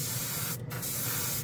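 Harbor Freight Avanti airbrush spraying Tamiya paint, a steady close hiss of air and atomized paint that cuts out briefly for a moment before resuming.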